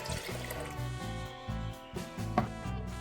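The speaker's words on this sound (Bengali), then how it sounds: "আমি এখন এতে এই বাটি 2 বাটি জল দিয়ে দিলাম" Water poured from a bowl into a pot of dal for dal tadka, a steady low bubbling trickle with gurgling pulses, soft and continuous throughout without voices.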